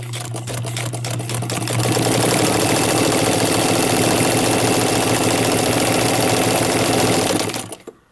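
A vintage Necchi BU sewing machine stitches a tight, narrow zigzag, a loud, steady mechanical whir with a fast rhythmic clatter running for about six seconds before stopping abruptly.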